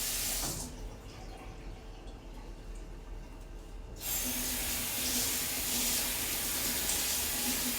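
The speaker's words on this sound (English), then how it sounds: "Now I have to actually soak the bench because there's bloody food all over it." Tap water runs onto a kitchen bench to soak off food, starting as a fainter flow and then surging to a louder, steady close-up splash and rush after a few seconds.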